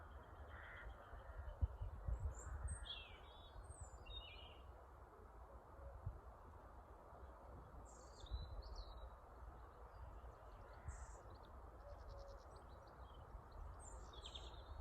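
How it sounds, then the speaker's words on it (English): Scattered bird calls and chirps sound faintly in the distance over a steady low outdoor rumble in a forest, with no voices. "Maybe that you can hear bird song."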